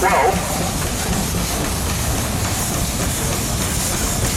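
A 75 horsepower Case steam engine built in 1912, running at a threshing show in Edgerton, Wisconsin, gives off a steady mechanical chuffing and hiss, close and continuous beneath outdoor crowd noise and talk.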